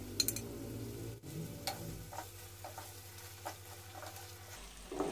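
Chopped onion and capsicum fry in a pan, giving a soft patter with scattered light ticks and stirring clicks at close range and no talk.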